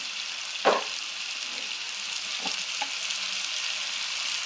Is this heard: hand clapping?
no